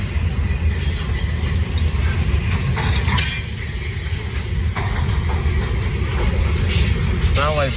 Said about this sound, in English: Sound like brakes.